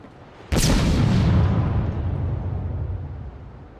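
Grenades go off in the Batman: Arkham Origins video game, producing one loud, sudden blast that becomes a long rumbling roar and fades slowly over several seconds, with no talk over it.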